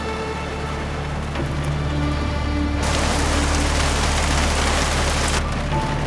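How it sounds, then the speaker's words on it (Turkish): Heavy rain pours down without pause, a dense, loud, unbroken hiss that swells even thicker midway, with a low steady rumble underneath. "Çok yağmur yağıyor sanırım."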